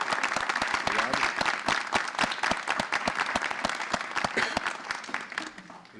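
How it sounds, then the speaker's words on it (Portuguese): An audience at a poetry podcast event applauds to welcome a poet, crisp individual claps close by over a steady bed of clapping that carries on for several seconds before tapering slightly. "Vou pedir, então, uma salva de palmas para Sérgio Vaz,"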